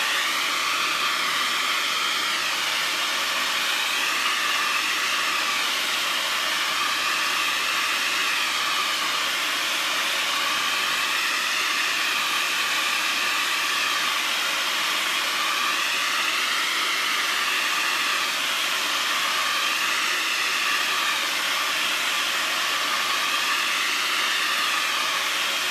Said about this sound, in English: All right, so I am going to hit this with the blow dryer now.